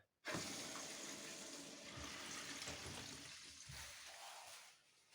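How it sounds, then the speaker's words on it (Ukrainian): Water gushing and rushing as it fills two water purification filter housings after a valve is opened on a home pumping station, a steady hiss that starts abruptly and tapers off near the end, with no talk. "І відкриваємо, щоб вода заповнила ці два фільтри"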